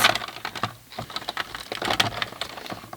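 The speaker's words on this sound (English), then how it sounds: "And then I'm just going to trim that down to 20" A paper trimmer cuts cardstock down to size for a Stampin' Up! slide gift box, producing a rapid run of close, crisp clicks and scraping slides, with no voices.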